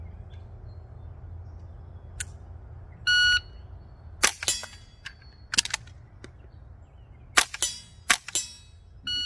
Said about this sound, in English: shooting 1 round, speed reload, and do 2 rounds